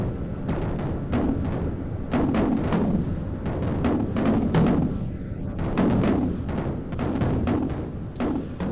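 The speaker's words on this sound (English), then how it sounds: "those A4s are scattering as flak explodes around them" Anti-aircraft flak bursts over Vietnam in the flight simulator game Strike Fighters 2, a rapid irregular series of heavy booming thuds and crackling explosions over a steady jet engine rumble.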